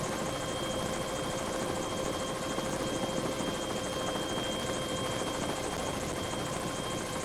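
Steady droning rotor and engine noise of a National Guard helicopter flying nearby over 1993 floods, continuous and loud throughout with no talking.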